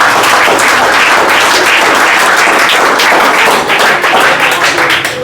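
Children clap together in a lively, dense burst of applause at a gathering, loud and close, continuing steadily with slight unevenness near the end.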